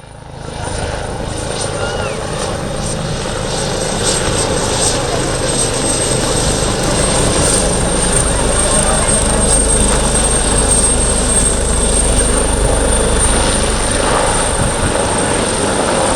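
An Italian Coast Guard PH-139 rescue helicopter at the Malta International Airshow gives a loud, continuous rotor and turbine roar with a high whine. The sound is steady throughout and grows slightly stronger.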